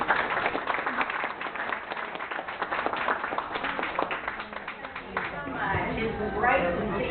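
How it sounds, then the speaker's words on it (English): A crowd outdoors in Walker Park, Fayetteville, Arkansas, claps for a city council member at a community rally, a dense steady patter of many hands that runs most of the way, with a voice speaking over the tail end. "Let's give her a round of applause real quick."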